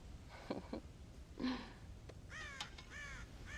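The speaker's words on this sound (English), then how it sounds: "God damn crows!" Crows cawing in the video game Red Dead Redemption, several harsh caws in short bursts, fairly faint and distant against quiet ambient background.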